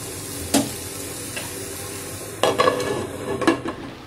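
Chopped coriander being stirred into beetroot fry in a pan, with a few sharp spoon scrapes and taps over a soft, steady sizzle, close and alone without speech.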